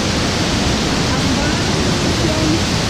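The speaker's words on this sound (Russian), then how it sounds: "И слева водопады. И справа водопады." Waterfalls on Hainan roar as a loud, steady broadband rush of falling water that masks everything else and stays constant throughout.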